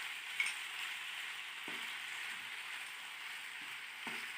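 Chicken lasagna filling is mixed with salt and black pepper in a hot pan, giving a steady, soft sizzling hiss broken by a few faint scraping knocks of the spoon.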